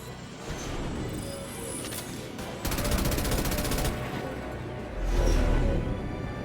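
Rapid gunfire in the video game Mass Effect 2 comes in loud bursts, with a dense, fast volley in the middle and another heavy burst near the end over steady background noise.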